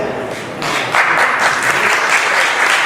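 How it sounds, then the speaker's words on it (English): Audience applause at a lecture, swelling quickly from a lull into dense, steady clapping from a large crowd that continues to the end. "Now I want y'all to hold them claps for a minute"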